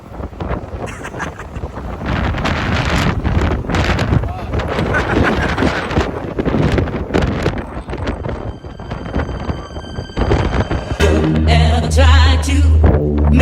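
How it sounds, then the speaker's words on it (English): Strong wind batters the microphone at an outdoor EDC electronic music festival, roaring and buffeting loudly throughout with voices mixed in, and thumping music surges near the end. "It's so windy, bro."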